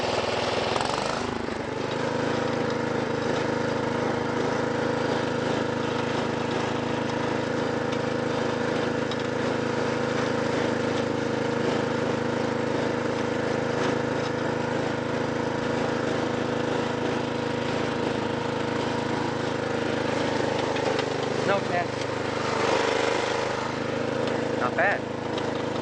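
A Snapper riding lawn mower's engine runs steadily and close for the whole stretch, a constant mid-pitched drone with a slight flutter as it moves across a yard, no voices over it.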